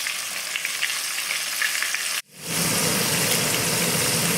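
Steady, dense sizzling of wild turkey pieces frying in hot oil, briefly cutting out for a moment before the loud crackle resumes.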